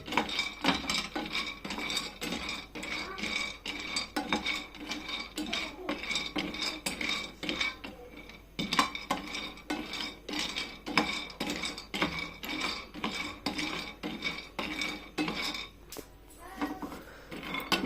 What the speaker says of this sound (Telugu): బాదం ఇలా రోస్ట్ అయ్యే వరకు వేయించుకోవాలి.